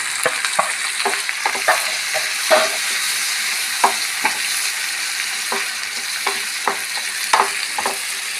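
Green peas frying with onion in a pan, with salt added, a steady close sizzle under repeated sharp spatula scrapes and taps against the pan, no voices.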